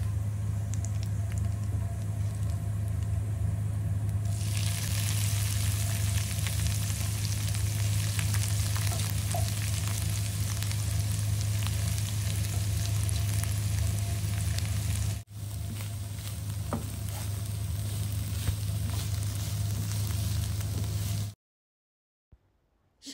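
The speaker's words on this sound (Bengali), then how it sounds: "আর এই যে এটা বাগার দিব এখন" Radish greens and small mola fish sizzle loudly in a pan with a constant crackling fry, brightening after a few seconds, then easing slightly before cutting to near silence at the end.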